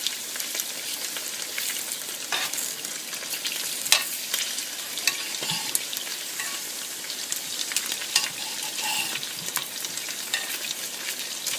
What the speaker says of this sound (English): I'm not cooking my tortilla because it's already pre-cooked, so what I'm doing is warming them up.